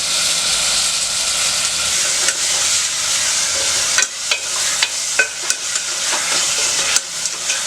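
Onions and tomatoes sauté for sambar in a pan with a steady, hissing sizzle. Sharp metallic stirring clinks and scrapes become frequent in the second half, close up, with no voices.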